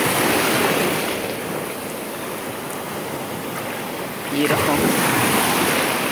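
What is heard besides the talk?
ocean waves washing onto sandy beach at high tide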